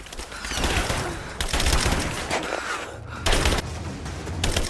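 Rapid gunfire rattles through an action-adventure video game battle in dense, sustained bursts, with heavy booms mixed in and brief pauses between volleys.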